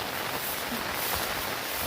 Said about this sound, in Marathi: पाऊस काही थांबायचं नाव घेत नाही